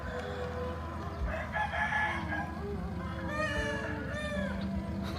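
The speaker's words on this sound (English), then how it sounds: "then you hear the chickens 1 minute" Roosters crow and chickens cluck in rural Thailand, several crows rising and falling over a steady outdoor bed of clucking and ambient noise, at moderate distance and fairly faint.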